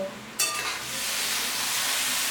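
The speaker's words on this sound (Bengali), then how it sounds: "সবজিটা ভালো করে ভেজে নিয়েছি" Vegetables and eggplant fry with ginger paste and coriander powder in a pan for a Piyali fish curry; a sudden loud hiss bursts in, then settles into a steady close sizzle.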